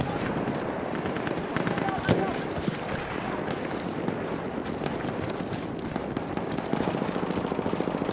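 Rapid machine gun fire rattles in quick bursts in the World War I shooter Battlefield 1, mixed with steady battlefield noise and a few sharper shots, while a voice speaks over it.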